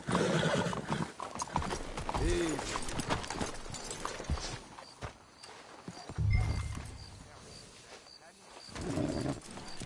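Horses clip-clop on the ground in the Red Dead Redemption 2 video game, steady hoof beats up close with a whinny and bird coos in the background while people talk.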